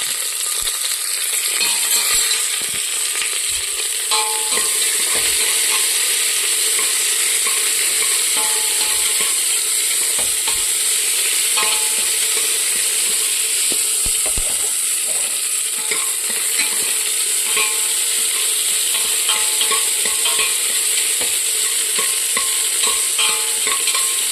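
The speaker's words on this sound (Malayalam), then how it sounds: "ഇളക്കി കൊടുക്കാം." Millet kichdi is stirred in a frying pan, a steady close sizzle under continuous scraping and clicking of the spoon against the pan, without a break and with no talking.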